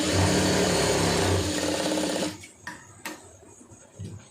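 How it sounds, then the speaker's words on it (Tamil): A sewing machine stitching a large sleeve runs loud and close in a steady whir for about two seconds, then stops, leaving a few faint clicks and handling noises. "நல்லா தையல் வந்து பொடி தையலாக வச்சுக்கிறோங்க"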